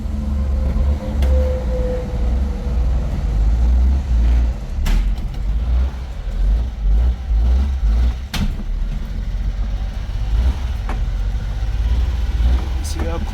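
A van driven at steady speed, its low engine drone and road rumble continuous and fairly loud from inside the cabin, with a few brief knocks and clunks.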